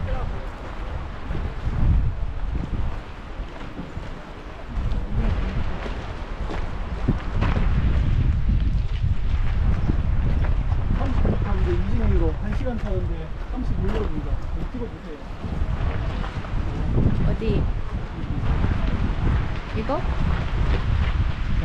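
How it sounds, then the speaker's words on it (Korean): Steady strong wind buffets the microphone over a broad rush of choppy water on Lake Braies, with voices talking faintly underneath throughout. "바람이 너무 많이 불어서 물결이 치는데 파도 치는 것 같아요"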